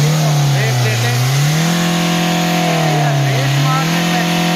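A parked car with an engine-mounting fault, though it resembles a turbo pipe leak, is revved twice in smooth rising and falling swells, its loud engine drone continuous and close throughout.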